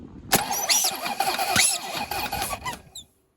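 Corvette C4 ZR-1 engine cranking over with a squealing starter and rough turning, loud and close for about three seconds before cutting off, with no clean catch.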